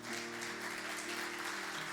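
Congregation in a church applauding together, a dense, steady wash of clapping from many hands throughout, filling the room at moderate volume with no pauses.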